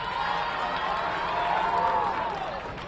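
Basketball gym crowd at a girls' high school game roaring in a sustained, loud wash of cheering and shouting that swells and then eases slightly, filling the space without clear individual voices.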